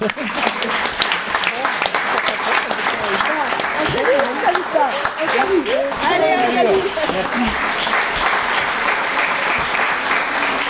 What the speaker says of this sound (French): c'est 2 fois plus d'applaudissements.